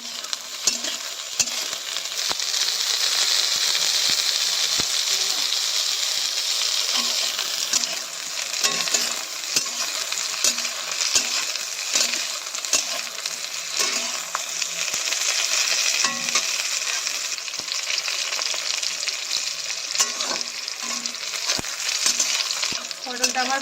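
Potato pieces, after pointed gourd, fry in hot oil in a pan, a loud continuous sizzle broken by frequent scrapes and clinks of a stirring spoon.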